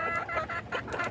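A young rooster just over a year old clucks in a series of short, close bursts with brief gaps between them, out in a backyard yard on a rainy day.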